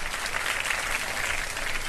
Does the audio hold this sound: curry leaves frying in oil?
no